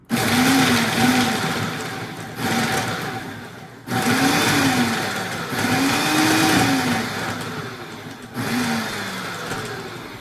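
A blender pulses an energy ball mixture in about five loud bursts, each a grinding motor whir that rises and dips in pitch, separated by brief pauses.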